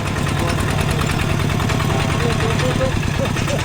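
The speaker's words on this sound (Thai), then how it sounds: "นี่คือรถไถเพิ่นที่ไปรับเอาเฮาบางหันนะ" A farm tractor engine idling nearby, a steady, loud, rhythmic low throb that holds evenly throughout, with some voice underneath.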